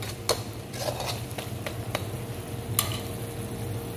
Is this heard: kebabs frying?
yes